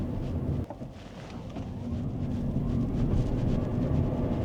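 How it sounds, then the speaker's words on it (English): A 2026 BYD Atto 1 Essential electric car accelerates near full throttle, giving a steady low road and wind roar that builds slightly over several seconds, with no engine note. "That's close to a full throttle acceleration."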